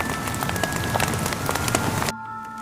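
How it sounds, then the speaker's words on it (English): Rain falls in the Roblox game Berry Avenue as a steady, loud hiss of drops with no voices, then cuts off abruptly after about two seconds, leaving only a low background hum. "Now let's hurry because it's raining."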